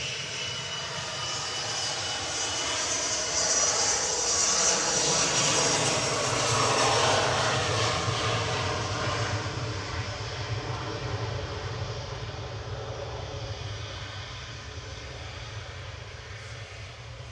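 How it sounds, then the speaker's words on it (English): Loganair Embraer E145 regional jet departing Manchester Airport for Inverness, its engines giving a loud, sustained roar that swells through the middle and slowly eases as it climbs away. "Logan Air going to Inverness, the SAJL, the Embraer Air E145, flight 592"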